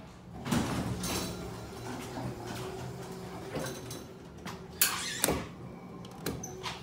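A Dover Impulse traction elevator door at the Richardson Building, Texas A&M University, slides closed with a soft mechanical rumble, then several sharp clunks and latching knocks near the end, all close and moderately quiet with no talking.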